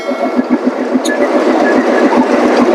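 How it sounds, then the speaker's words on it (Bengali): A commuter train bound for Kamalapur rolls loudly and close past a station platform, its wheels beating a steady clickety-clack rhythm over rail joints with a continuous rumbling roar and a brief high squeal. "এটা হচ্ছে কমলাপুর গামী ট্রেন"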